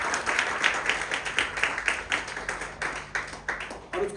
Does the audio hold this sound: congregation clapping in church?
yes